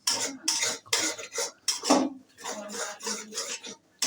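Eggs are scrambled with a spatula in a wok, giving a rapid run of metallic scrapes and clinks against the pan in quick irregular bursts, close and fairly loud, with no speech.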